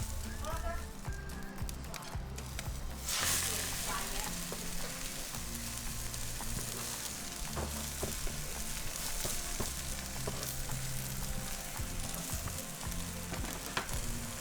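Hiroshima okonomiyaki, a Japanese savory pancake layered over egg, frying on a griddle with a steady close sizzle and occasional spatula scrapes, continuous throughout with light background noise.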